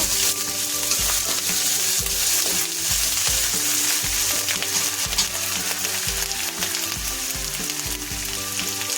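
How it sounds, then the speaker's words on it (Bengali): Onion paste and garlic paste fry in a pan for a mushroom curry, giving a steady, close sizzle with soft stirring scrapes throughout. "রসুন বাটাও হালকা করে একটু ভেজে নেব।"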